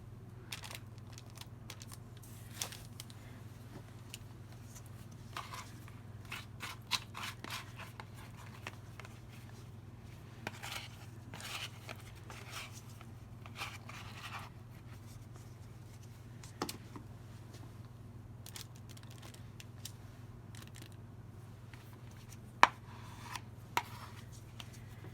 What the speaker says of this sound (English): Use your spatula and take bigger amounts.